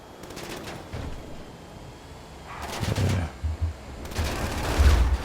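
Bursts of rapid automatic gunfire in Grand Theft Auto V, three clustered volleys spaced a second or two apart, growing louder toward the end with a low thump under the final burst.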